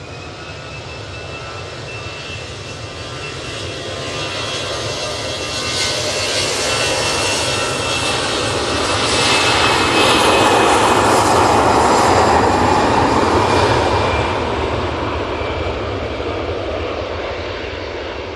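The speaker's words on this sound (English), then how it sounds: "that EasyJet A320 is off to Antalya" EasyJet Airbus A320 taking off from Manchester Airport, a loud sustained jet engine roar that swells to a peak midway and then slowly eases, with no talking over it.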